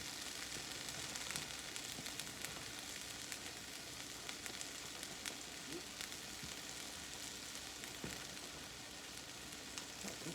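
Noodles and peas cooking in a pot, a quiet, steady bubbling hiss with faint scattered pops and clicks, continuous and fairly distant, with no one talking.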